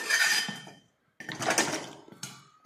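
Dibba roti is flipped in a pan with a burst of metallic scraping and clanking, then a brief silence and more scrapes and knocks of the utensil against the pan.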